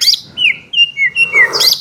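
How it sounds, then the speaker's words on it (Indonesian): Birds chirp in the morning in a quick run of clear, whistled calls, loud and close. No talk or other sounds are mixed in. "Burung-burung pada bunyi."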